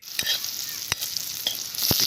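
Dried mango with spices fries in hot oil in a wok, sizzling steadily up close, with a few sharp scrapes of stirring.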